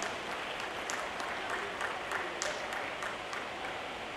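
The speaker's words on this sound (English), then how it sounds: "Can you please have a huge round of applause for them?" Sustained applause from an audience at a motor show launch event, a dense steady clapping with crisp individual claps standing out, filling the whole stretch without pause.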